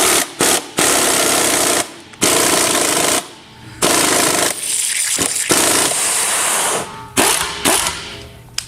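An ESCO 20429 portable bead breaker stripping a tire bead, loud rapid pneumatic hammering in repeated bursts separated by brief pauses, close and harsh.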